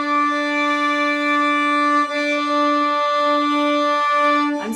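Fiddle bowing a sustained octave D, one slow down bow followed by an up bow, ringing clear and alone with rich overtones and a slight change at the bow turn.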